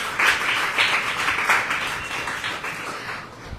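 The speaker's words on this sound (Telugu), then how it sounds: "గట్టిగా చప్పట్లు కొడదాం." Church congregation clapping loudly at a Sunday service, a dense, continuous patter of many hands that stays steady and close throughout, with a few louder swells near the start.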